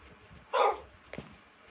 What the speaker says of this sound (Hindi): क्या भौंक रहा है बे